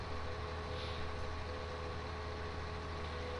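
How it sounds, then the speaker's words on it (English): A tractor's hydraulic coupling in the video game Farming Simulator 2019 whines steadily over a constant low engine drone, with no one speaking. "That's actually the hydraulic coupling pretty much whining away."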